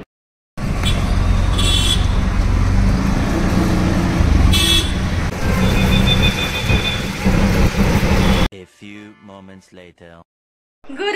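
Riding in an auto-rickshaw through traffic in light drizzle, a loud rumbling engine and wind roar with two short horn toots along the way, then the ride cuts off and a person speaks.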